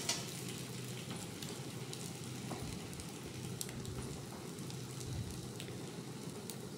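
A potato mixture for aloo chop fries in a pan, giving a steady, even sizzle with faint crackles and occasional stirring noises. It is fairly quiet and continuous, with no talk over it.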